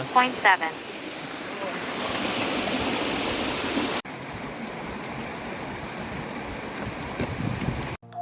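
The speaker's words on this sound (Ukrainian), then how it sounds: "І тут знайшов великий, але гарненький водопад." Rushing water from a large waterfall near Yaremche in the Carpathian Mountains pours in a steady, full roar close by, with a voice speaking briefly at the start.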